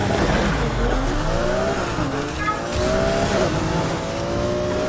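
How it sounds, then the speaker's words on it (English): A car's drive belt squeals in the racing game NFS Heat, a loud wavering high whine sliding up and down over a steady engine roar for a few seconds, with no talking. "All I can hear is that stupid belt squealing."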